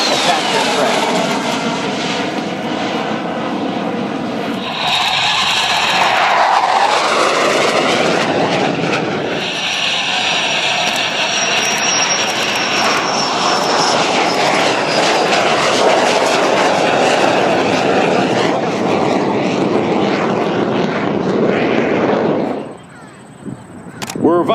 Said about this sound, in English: It was easy to fly and a very effective attack aircraft.